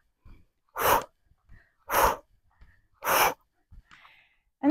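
Three forceful exhalations during a morning gym routine, evenly spaced about a second apart, each a short breathy whoosh, close and loud with quiet breathing between.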